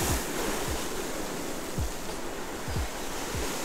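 Ocean swells surge against a fishing jetty in a steady, broad wash of surf, with several low thumps of wind or water buffeting the microphone.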